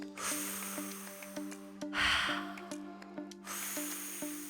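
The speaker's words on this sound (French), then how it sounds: "Inspire, expire." Deep breathwork breaths come close to the microphone in long rushing inhales and exhales at a steady pace, over soft rhythmic background music.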